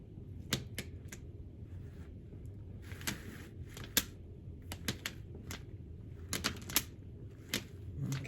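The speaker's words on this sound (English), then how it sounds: "that's the plastic that you hear that I have it sitting in the tray" A plastic plant tray rattles during houseplant repotting, giving a string of sharp, close clicks and taps at an irregular rhythm over quiet background.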